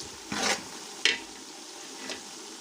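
Carrots go into a pan of softened frying onions and are stirred, producing three separate scraping, sizzling strokes of a spatula against the pan over a faint background hiss, close by, with no talking.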